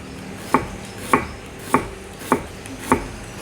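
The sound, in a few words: knife thinly slicing onion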